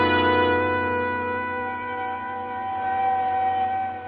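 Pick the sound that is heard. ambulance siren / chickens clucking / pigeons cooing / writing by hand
ambulance siren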